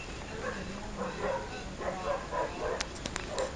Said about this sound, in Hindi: ये कुत्ते इतने ज़्यादा भौंकने लग पड़े हैं यार